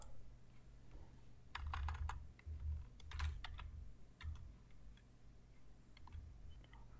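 Quick, light keystrokes on a computer keyboard come in scattered clusters and short bursts over a low steady hum, fairly quiet and close, with no talking.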